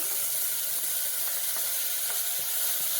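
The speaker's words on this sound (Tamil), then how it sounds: "எல்லாம் சேர்த்து நல்லா வதக்கிக்கணும்." Curry leaves, chopped tomato, ginger and garlic sautéing in a pot for one-pot dhal rice, a continuous close sizzle and hiss with soft stirring scrapes, no voices.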